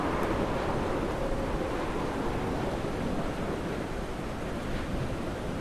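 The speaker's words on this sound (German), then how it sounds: "der Wind wird gerade verdammt stark, wir sind verdammt weit oben" Strong wind roars steadily from the high cliffs in the video game Dear Esther, a dense continuous rushing gust with no break, loud and close throughout.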